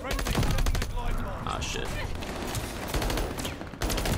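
Rapid gunfire from the anime gun in Call of Duty: Vanguard: dense bursts of close, loud automatic shots in quick runs with brief pauses, and someone talks briefly over the shooting.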